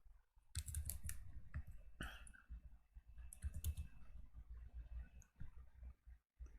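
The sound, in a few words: typing on a computer keyboard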